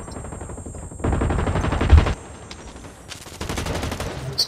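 Sustained automatic weapon fire in the shooter game BlackLight Retribution, two long rattling bursts of rapid shots separated by a quieter gap, loud and close.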